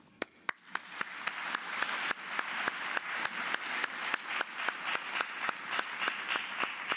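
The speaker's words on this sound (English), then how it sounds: "Give him a round of applause, ladies and gentlemen." Audience applause at a closing ceremony: sparse loud claps at first that quickly swell into steady, sustained clapping from a large crowd, with sharp individual claps standing out throughout.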